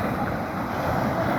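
Sea waves wash along the seaside Corniche in Jeddah, a steady broadband rush of surf blended with wind noise across the microphone, continuous and even throughout the brief moment.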